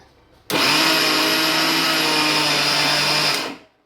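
Mixer grinder whirring steadily as it grinds cooked rice and wheat flour in a jar for puttu, starting abruptly, running loud and even for about three seconds, then winding down.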